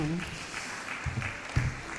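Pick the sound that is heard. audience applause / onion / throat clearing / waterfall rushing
audience applause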